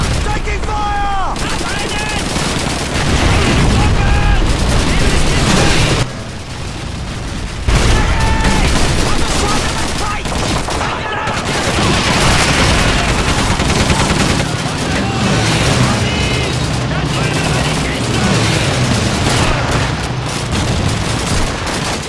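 Heavy gunfire in the Call of Duty 2 video game, with a dense, sustained barrage of rapid machine-gun bursts and booming shots, loud and continuous, while voices shout over the battle.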